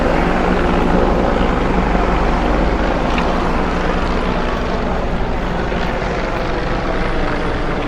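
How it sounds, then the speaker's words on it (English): Steady roar of aircraft overhead in Washington DC, a plane on approach to land at National Airport mixed with a Park Police helicopter, loud and continuous throughout with no talk. "There you can see a plane landing at National and Park Police Eagle."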